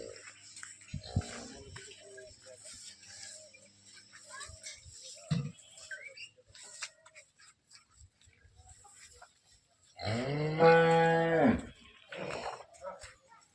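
A six-tooth cow in her third calving with a heifer calf gives one long, loud, close moo near the end, after quieter farm noise, shuffling and scattered voices.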